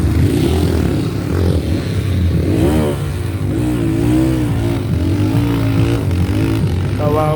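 Motocross motorcycle engines rev and buzz during a festival race, a loud, continuous wavering drone rising and falling through the throttle, with an announcer's voice partly over it.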